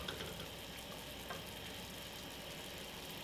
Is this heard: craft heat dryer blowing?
no